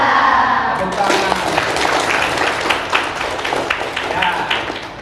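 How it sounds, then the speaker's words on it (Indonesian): A classroom of students applauds together, a dense burst of clapping with voices mixed in over the whole stretch. "Tepuk tangan."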